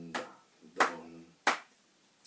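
Hands clapping a rhythm: four crisp, close claps, evenly spaced about two-thirds of a second apart, with nothing else heard.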